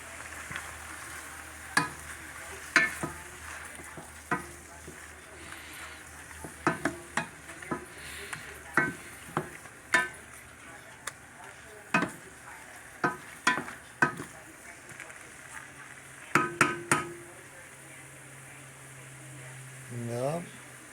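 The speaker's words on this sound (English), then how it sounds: "I'm going to add some of this Korean barbecue sauce. Yep, about that much. And we're going to stir that around" Baby bok choy and straw mushrooms sizzle in a pan with Korean barbecue sauce, while a utensil stirs with repeated clinks and scrapes; a person talks at times.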